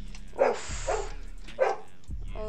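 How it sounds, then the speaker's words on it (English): A dog barks repeatedly in the background during gaming commentary, with three or four loud, sharp barks spaced about half a second apart, and a voice briefly exclaiming over them. "Oh my gosh, this is the worst time for the barking."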